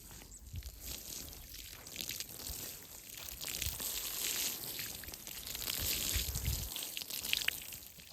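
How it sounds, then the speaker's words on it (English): Strawberry plants still in flower and fruit are watered in a garden bed, with a steady, moderately loud outdoor spray and splash that continues throughout, swelling at times, with no talking. "Also watering the strawberries because they're still producing."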